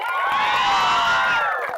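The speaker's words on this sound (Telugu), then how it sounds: "సూపర్ గర్ల్స్ గట్టిగా క్లాప్స్." Loud, continuous applause and cheering from a studio audience for a group of girls on a Telugu TV quiz show, dense and sustained throughout with excited shouts mixed in.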